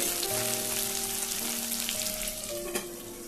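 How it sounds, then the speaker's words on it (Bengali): Potatoes and finely cut radish fry in oil in a covered pan over a high flame, giving a steady, close sizzle and crackle throughout with no talking. "এটা একটু চাপা দিয়ে আমি হাই ফ্লেমে ভাজছি"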